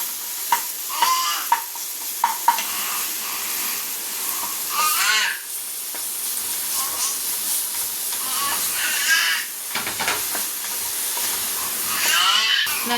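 Ginger and garlic sautéing in a hot pan give a close, steady sizzle and hiss, with a spoon scraping and stirring and a few sharp clinks early on.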